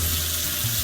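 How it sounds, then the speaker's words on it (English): Water runs from a kitchen tap into a sink fitted with a newly installed garbage disposal, a steady loud close hiss throughout with no voices. "Water's running."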